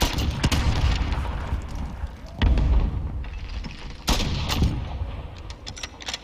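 Gunfire in a Call of Duty: Modern Warfare esports match, with several sharp bursts and heavy booms in the mix alongside continuous game noise and likely commentary voices.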